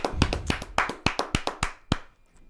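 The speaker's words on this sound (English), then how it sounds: "Let's clap it up for a brother." A small group claps after a call to cheer for a star on the Hollywood Walk of Fame, a dozen or so distinct, fairly loose hand claps close by that thin out and stop.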